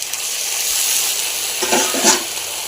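Onions, moringa leaves and manathakkali greens sizzle and fry in a pan, a steady bright hiss with a few louder crackling bursts of stirring near the end.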